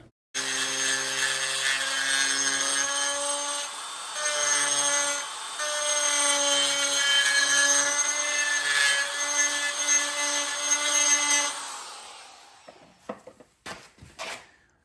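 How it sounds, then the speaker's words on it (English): A wood lathe whines with a steady, tonal hum while a bit grinds in light passes, and a rasping cut rides over the hum. The sound stays constant for about twelve seconds, then stops, and a few knocks and handling sounds follow. "It's important to grind a little at a time rather than making heavy cuts."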